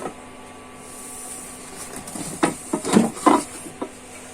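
A lid for a ceramic granite non-stick pan clatters lightly as it is tried on the cookware at a busy trade fair stall, a few irregular clinks and taps over steady crowd hum.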